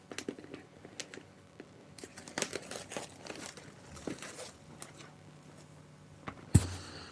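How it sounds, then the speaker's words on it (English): Cellophane wrapping is crinkled and torn off a Final Fantasy VII Rebirth Deluxe Edition box, up close: scattered soft crackles and rustles, ending in a sharp crisp snap. "Always a pain to get into this cellophane."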